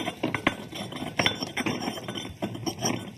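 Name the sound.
mortar and pestle grinding mustard, garlic and salt into paste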